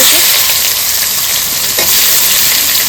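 Bay leaf, dried chili, whole cumin and onion frying in leftover fish-frying oil, a loud, dense, steady sizzle heard close up, with faint stirring underneath.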